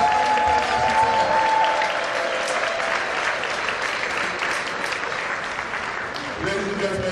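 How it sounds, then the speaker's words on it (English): Loud, sustained audience applause in a hall honoring a guest, a dense wash of clapping that holds steady throughout with a few scattered cheers and voices mixed in. "A round of applause for Mrs. Lashiter."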